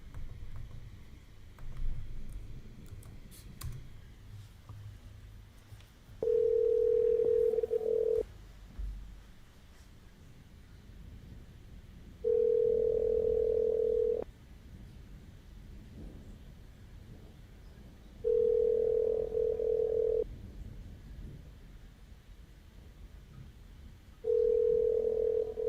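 A telephone call rings out unanswered, sounding four long, loud, evenly spaced ringback tones separated by several seconds of quiet background noise.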